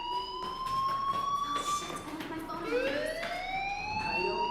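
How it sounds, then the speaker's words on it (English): A fire alarm in the video game Life Is Strange sounds as a steady, shrill electronic tone, and its pitch bends upward partway through. It is loud and continuous over faint background murmur. "do you hear that fire alarm? That means you should be outside."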